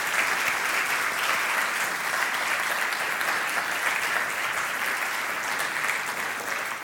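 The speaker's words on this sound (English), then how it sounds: "Could you give a round of applause to the panel?" An audience at an evening panel discussion applauds steadily for almost seven seconds, a dense, even wash of many hands clapping at moderate loudness with no talking over it.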